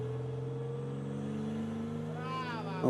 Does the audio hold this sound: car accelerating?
yes